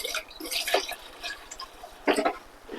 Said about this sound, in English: I'm going to pour about 2 cups of antifreeze in each trap.